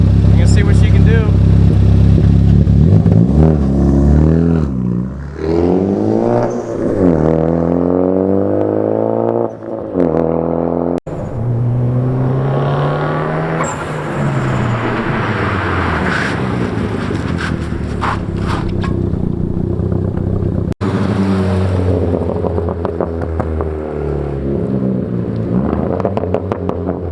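Ford Focus ST fitted with an R1 Concepts big brake kit, brakes still cold, accelerating hard and then braking: steady engine roar with rising and falling pitch sweeps and a few sharp clunks, heard from inside the car under continuous talk.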